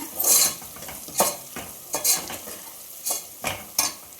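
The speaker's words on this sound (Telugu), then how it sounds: "పసుపు వేసుకొని బాగా తిప్పుకొని" Stirring turmeric into goat trotters curry frying in a pan, with repeated scraping strokes of a spoon against metal in an uneven rhythm over a soft sizzle, close up and without talk.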